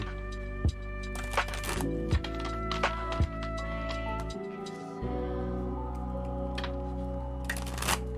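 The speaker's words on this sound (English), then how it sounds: "I'm going to be shuffling in the meantime." Tarot cards being shuffled by hand, a run of soft papery riffles and taps close by with steady background hum, brief louder slaps at intervals.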